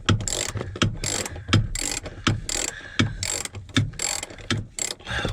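Repeated ratcheting on seat bolts inside a 1998 Dodge Ram 1500 pickup, a close, rhythmic series of quick clicking pawl bursts with short pauses between strokes.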